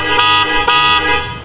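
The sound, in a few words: car horn honking on a Honda Jazz GE 2014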